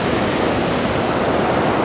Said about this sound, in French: il y a juste quelques vagues qui cassent sur le club